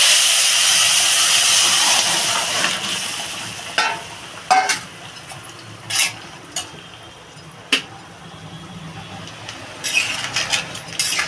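Crab dropped into a hot pan of spices for a Bengali crab curry, hissing and sizzling steadily, with sharp stirring scrapes and clinks of utensils against the pan breaking through at intervals.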